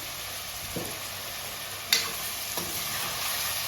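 Onions cook with salt in a pan, giving a constant even sizzle with a few light stirring clicks and scrapes, close by and with no talking.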